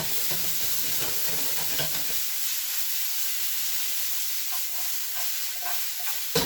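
Vegetables fry in a pan with a little oil and butter, seasoned with salt and thyme, giving a steady close sizzle and hiss with some stirring at first.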